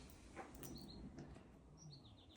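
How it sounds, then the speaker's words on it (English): A bird outside sings in short, high chirps and whistled phrases, repeated several times over low steady background noise, faint and at a distance, with no talk. "There's a very loud bird outside right now."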